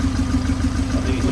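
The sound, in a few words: old engine exhaust running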